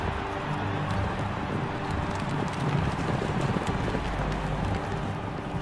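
Horses gallop in a dense, thundering rush of hoofbeats pulling chariots in an ancient Roman circus race, loud and continuous with a wind-like roar and no pauses.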